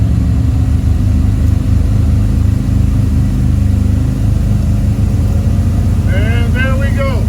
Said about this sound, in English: that work in the on the muffler sounds a lot better now. Sounds like how this boat should sound